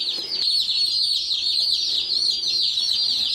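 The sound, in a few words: baby chicks clucking in a brooder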